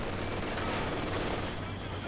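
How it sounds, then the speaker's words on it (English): A conscript rifle volley in the war game Company of Heroes 2 comes as a dense crackle of overlapping gunfire, loud and steady for two seconds, mixed into busy battle noise. "Gets a good volley there, just needs another good volley."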